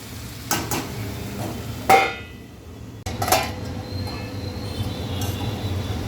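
A metal lid clanks onto a cooking pot of simmering takala leaf vegetable, with two sharp knocks around the middle of a quiet kitchen stretch and faint background hum.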